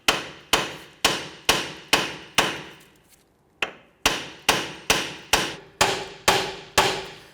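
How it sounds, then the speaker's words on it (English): A hammer strikes a steering knuckle to free rusted strut bolts on a 2011-2015 Kia Sorento, ringing out in steady, evenly spaced metallic blows close by. Each blow rings briefly, with one short pause midway. "we're going to go ahead and tap this with a hammer"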